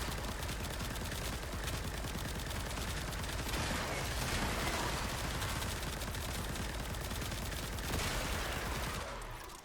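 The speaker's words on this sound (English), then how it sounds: "Pull out the Diplos, and fire away." Sustained rapid gunfire from Tenet Diplos pistols in the video game Warframe, a loud, dense stream of shots that continues almost without pause for about ten seconds before cutting off.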